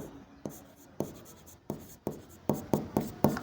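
Pen writing on paper, close and distinct: a series of scratchy strokes with sharp onsets, roughly one or two per second and growing more frequent toward the end, with no voices.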